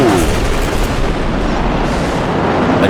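Reworked gunfire from the Bodycam video game, a dense loud barrage of overlapping shots and booms filling the whole stretch without pause.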